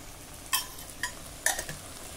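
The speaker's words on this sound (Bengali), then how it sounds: "এবার খুব ভালো করে নেড়ে নেব।" Bengali banana flower curry (mochar ghonto) topped with ghee is stirred in a pan: a soft, low sizzle with several distinct scraping and clicking spoon strokes, no voices.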